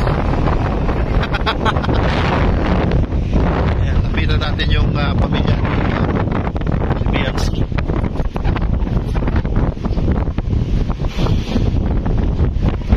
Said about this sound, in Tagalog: Mahangin po rito. Mahangin.